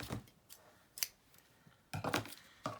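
Scissors snip through yarn in a few quick, quiet cuts close by, with small clicks and pauses between the snips in an otherwise hushed room.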